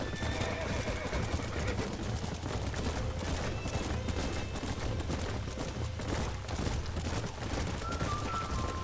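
Horses whinny in Red Dead Redemption over a busy bed of hoofbeats and scattered crackling shots, with voices mixed into the dense noise.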